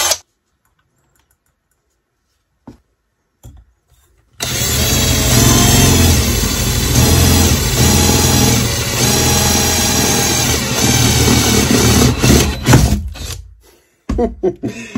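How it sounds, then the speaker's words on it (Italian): A Teccpo PHD100D 18V cordless drill bores through 2.5 mm metal with a 9.5 mm bit, whining loudly and steadily for about eight seconds after a few faint clicks, then winds down and stops. "Allora proviamo questa punta da 9 mm e mezzo."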